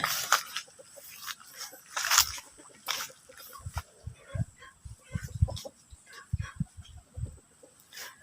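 Fighting roosters and hens on a farm in Thailand, with scattered clucks and short calls near and far over soft rustling and footsteps, plus occasional faint rooster crows.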